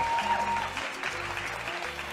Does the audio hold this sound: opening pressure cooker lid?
no